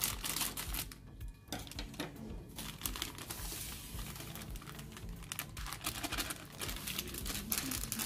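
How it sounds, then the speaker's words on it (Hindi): Detergent packets are cut open one after another, giving dense crinkling plastic rustles and snips, close and continuous, with a brief lull early on. "तो मैं एक करके इन पैकेट्स को काट लेता हूँ।"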